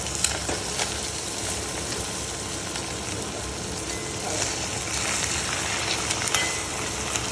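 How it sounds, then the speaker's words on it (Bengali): Small kachki fish fry in hot oil with a steady, dense sizzle that swells slightly at times, broken by faint scrapes and clicks as they are stirred and turned over. "এবার একটু নাড়িয়ে দিই, এবার একটু উল্টে দিই মাছটা"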